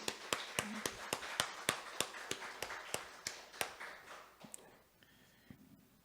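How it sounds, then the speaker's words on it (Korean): A church congregation claps together in a worship service, sharp rhythmic claps ringing out steadily for about five seconds before thinning and trailing off into quiet room tone. "우리 주님께 영광의 박수로 드리겠습니다."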